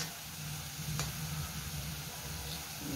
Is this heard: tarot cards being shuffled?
no